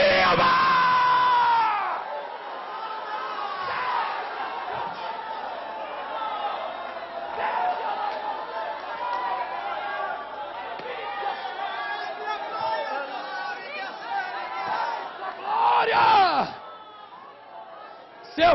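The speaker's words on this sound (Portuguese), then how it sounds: "Abre a boca. Dê um grito de glória." Church congregation shouting a cry of glory at a Pentecostal vigil, a sustained roar of many voices yelling and cheering together, swelling again to a loud burst near the end.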